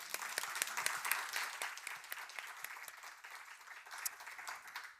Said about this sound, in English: I think we give them a big applaud.